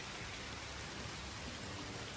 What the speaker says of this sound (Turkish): Şimdi bu yağmur eşliğinde